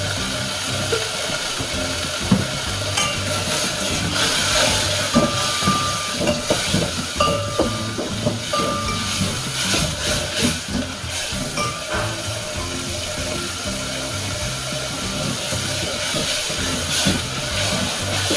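Garlic sautéing with salt in a pan, a steady hissing sizzle with fine crackles that runs loud and continuous throughout.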